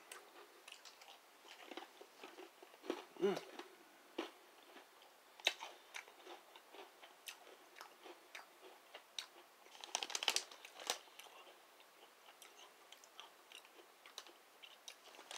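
Someone crunching and chewing Keebler cinnamon graham Bug Bites cookies, small bite-sized graham crackers, close to the mic, with irregular crisp bites in two louder bursts around the start and middle, alone without talk.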